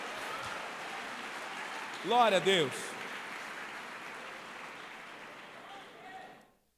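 Church congregation applauding during a sermon: a steady wash of clapping fills the room, and a voice briefly calls out praise over it midway before the applause thins and fades.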